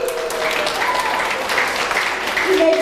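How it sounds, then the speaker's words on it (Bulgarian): Audience applause at a New Year party in Corfu, steady clapping throughout with tonal voices and music-like notes mixed in, moderately loud. "Аплодисменти!"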